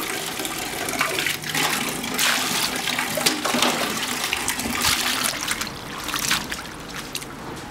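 Water runs steadily from a tap while soaked fern shoots are rinsed and handled, a continuous splashing gush with some rustling, close by and without talk.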